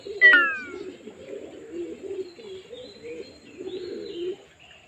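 Pigeons in a flying flock on an overcast morning give a sharp call near the start, then low, rolling coos pulse steadily and fairly close, with faint chirps above, and no one speaking.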